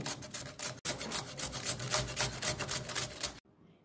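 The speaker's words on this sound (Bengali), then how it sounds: "এখন আমি পেঁপেগুলোকে ভালো করে ঘষে নেব।" Papaya being grated for papaya kheer, a steady rhythmic rasping of rapid strokes against a grater, close and continuous, with one short pause before the scraping stops.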